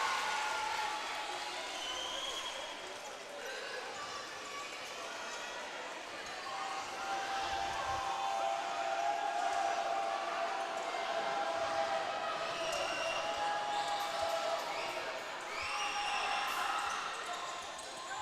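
Crowd at a girls' high school basketball quarterfinal playoff game, Buckeye vs Carver, a steady murmur and cheering through free throws, rising in swells with occasional shouts, while an announcer talks over it.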